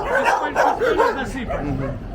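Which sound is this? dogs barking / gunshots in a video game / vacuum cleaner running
dogs barking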